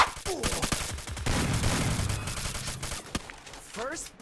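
Bursts of rapid gunfire from the Free Fire battle game in a 4v4 match, crackling in dense volleys through most of the clip, with a player's voice speaking over it.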